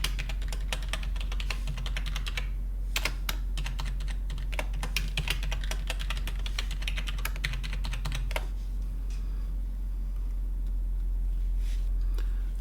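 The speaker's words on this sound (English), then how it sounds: "Type in the password that was specified during the account creation" A computer keyboard clatters with a burst of rapid keystrokes, pauses briefly, then gives a few more presses. A low steady hum sits under the clicks.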